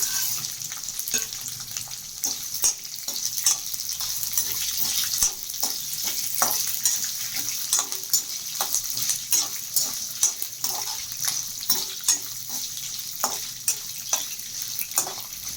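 Peanuts fry in a pan for mango rice with a soft continuous sizzle, punctuated by a quick run of sharp clicks and taps as they are stirred and tossed, close and fairly quiet.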